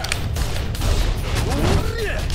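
BB gun shots in the video game Like a Dragon: Ishin, a burst of sharp cracks among busy combat sounds with a whooshing sweep near the end, loud and dense.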